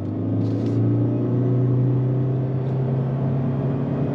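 Interior drone of a 2023 Toyota Corolla hybrid Infrared Edition under throttle, a steady, loud engine hum and road rumble that holds evenly throughout with no talk.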